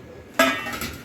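A container holding soaked boondi batter is opened with a single sharp clink of its lid, followed by a fainter second knock a moment later.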